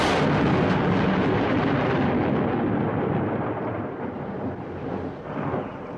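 Heavy thunder rolls continuously through an August summer storm in the Iberian countryside, a loud, deep rumbling that slowly fades with no voices.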